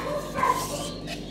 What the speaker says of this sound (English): Hopefully you can't hear the dogs in the background